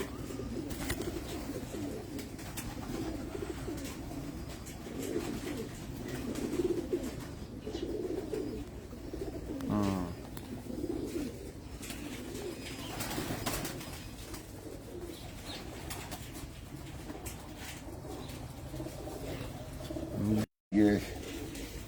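Black-faced pigeons of the Sialkot type coo on a rooftop in Abu Dhabi, a steady low murmuring chorus at moderate distance with occasional talk mixed in and a brief gap near the end.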